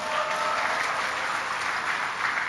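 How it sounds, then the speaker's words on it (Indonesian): Seminar crowd at a national gathering clapping for the Lampung delegation, a brief, dense, steady wash of applause with no voices over it. "Kasih tepuk tangan buat Lampung."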